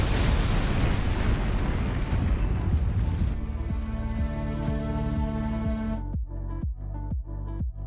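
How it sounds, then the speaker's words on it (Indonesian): A car blows up in a film scene: a heavy, roaring explosion rumbles for a few seconds, then gives way to dramatic sustained music with deep hits. "Sesaat kemudian mobil tersebut meledak hebat"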